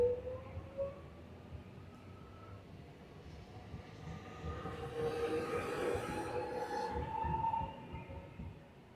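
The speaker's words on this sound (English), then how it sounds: "And there goes our train back to Camberwell." A train departs Alamein Station toward Camberwell, its low roar rising toward the middle and easing off, with faint metallic tones and squeals over the passing noise.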